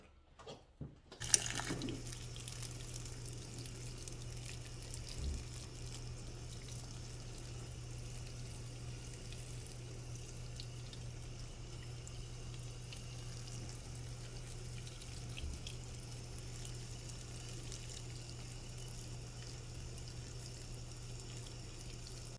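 Water runs steadily from a tap or hose into a freshly repotted Philodendron gloriosum, starting abruptly after a brief clatter and continuing as an even, close hiss with a low hum beneath, no talking.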